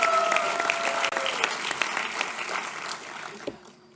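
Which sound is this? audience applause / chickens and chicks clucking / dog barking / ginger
audience applause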